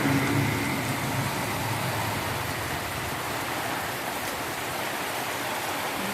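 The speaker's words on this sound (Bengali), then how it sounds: "সুন্দর বৃষ্টি হচ্ছে রাস্তাতে গাড়ি যাচ্ছে" Heavy rainstorm on a road, a dense, steady roar of rain with a constant low rumble that may include passing vehicles, no voices.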